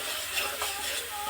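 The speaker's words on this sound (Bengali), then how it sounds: "মশলাটাকে ভালো মতন তেলের সঙ্গে কষিয়ে নেবো।" A ginger, garlic, onion and chili spice paste fries in oil with a soft, continuous sizzle, and brief stirring scrapes rise above it now and then.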